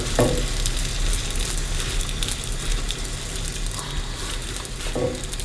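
Dhal puri flatbread cooks with oil on a hot pan, giving a loud, continuous close sizzle with occasional sharper crackles and brushing sounds throughout.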